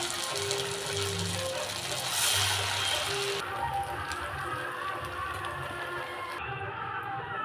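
Atukula murukulu, poha murukku dough, fry in hot oil with a steady, close, rain-like sizzle and crackle that holds throughout.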